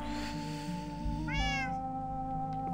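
A cat meows once, clear and fairly close, over a steady hum of background noise with constant tonal drones.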